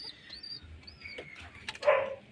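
Giribaz pigeons in a loft, one sitting on eggs, give soft cooing and faint chirps in quiet surroundings, with a louder close coo near the end.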